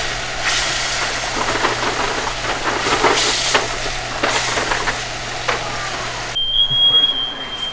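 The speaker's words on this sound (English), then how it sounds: "I set off the fire. The smoke alarm." Steady sizzling and clattering of goose cooking in butter in a pan, then a sharp, continuous high-pitched smoke alarm tone cuts in near the end and keeps sounding.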